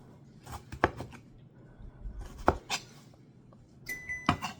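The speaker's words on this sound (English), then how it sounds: "Cut it in chunks." A knife chopping salad vegetables into chunks on a cutting board, several sharp, close knocks in irregular bursts with quiet gaps between, no talking.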